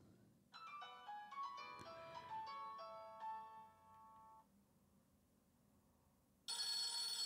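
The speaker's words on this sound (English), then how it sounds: "There's your message tones," A classic polyphonic Nokia message tone from a Nokia E51 plays a quick run of bright electronic beeps through its single speaker, then stops; after a pause a burst of loud broadband noise cuts in.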